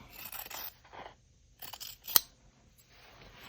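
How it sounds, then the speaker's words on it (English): Scissors cut straight through quilting fabric at close range in several crisp snipping bursts, with one sharp metallic snap near the end. "So I have scissors and we're just going to cut straight down the middle like so."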